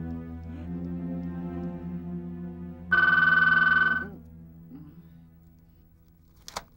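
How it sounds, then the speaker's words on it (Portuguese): A telephone rings once in a domestic drama scene, a bright electronic trill lasting about a second over a steady background hum, followed by quieter room sounds and a sharp click. "esse telefone me assustou"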